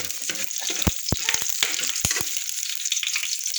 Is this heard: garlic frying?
yes